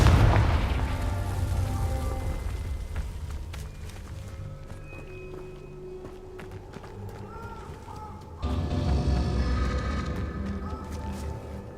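Confringo blasting curse exploding in a video game: a sudden loud, broad blast erupts late, over running footsteps and rumbling game sounds that continue throughout.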